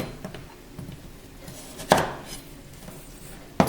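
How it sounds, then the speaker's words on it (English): Knife chops through food on a board for a fried snapper dish, scattered light cuts followed by two sharp, louder knocks, close and alone. "Just want to make sure you cut them evenly to get a nice even cook"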